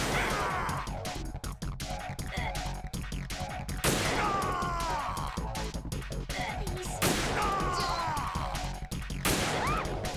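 Rapid gunfire crackles through a Metal Gear Solid 2 game scene, dense repeated shots with sharp bursts and whooshing effects at intervals, fairly quiet throughout.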